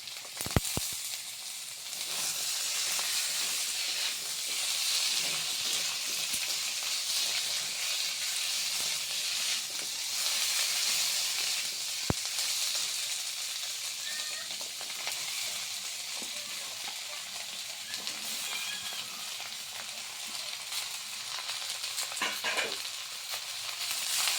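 Potatoes and mixed vegetables fry in a hot pan with a steady, bright sizzle and hiss that stays close and even throughout, with an occasional stir or clink.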